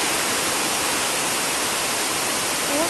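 Heavy rain pouring down outdoors at night on Sri Pada mountain in Sri Lanka during the off season, a dense unbroken roar close by, no voices.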